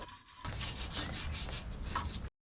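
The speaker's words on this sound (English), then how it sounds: "since I'm at the chapter with the power brush, I will clean the rear axle a little bit as well" A power brush scrubs grime off a car's rear axle, giving a steady, close abrasive whirring and rasping that runs continuously for about two seconds after a quiet start, then cuts off abruptly.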